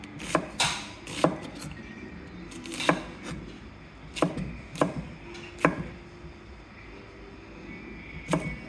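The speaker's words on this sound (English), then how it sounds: "that's how I chop my onions" A knife chopping onion into chunks on a board, about ten sharp, irregular knocks spread over several seconds, close and fairly crisp against a quiet background.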